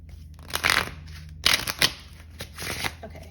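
A deck of cards shuffled at a table during a group card game, three or four quick riffling bursts close to the microphone, with brief voices around them.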